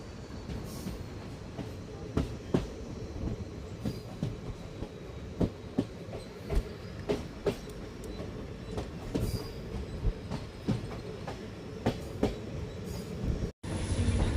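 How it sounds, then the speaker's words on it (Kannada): A passenger train on the Bangalore to Challakere line rolls into Shivani railway station, a close, continuous rumble punctuated by regular clicks of wheels over rail joints, with no voices. "ನಮ್ಮ ಟ್ರೈನ್ ಈಗ ಶಿವನಿ ರೈಲ್ವೆ ಸ್ಟೇಷನ್ಗೆ ಎಂಟ್ರಿ ಆಗ್ತಿದೆ"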